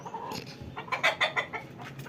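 Newly hatched chicks from incubated eggs give a quick run of high, close peeping calls, several short bursts in a row over a quiet background.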